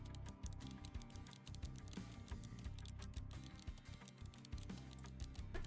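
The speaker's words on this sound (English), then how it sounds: "We just get to listen to Faust typing ASMR this whole time." Faint computer keyboard typing clicks away steadily in a quiet room, with a low background hum.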